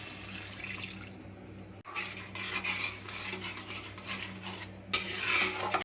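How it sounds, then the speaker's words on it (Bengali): Water is poured into a pan of potatoes and spices being cooked for an egg omelette curry, a soft splashing and sizzling wash that continues after a short break, close and moderate in level. "জলটা দিয়ে দিচ্ছি"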